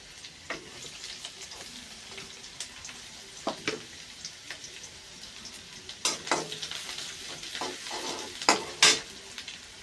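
Onions frying in a pan on a gas stove in a village kitchen, giving a steady close sizzle throughout with occasional louder crackles and pops, plus stirring scrapes near the end.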